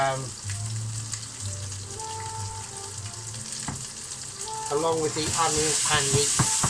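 Onions, tomato and garlic frying for chicken dopiaza, a dense crackling sizzle that grows louder and brighter toward the end, close, with a low hum beneath and no talking.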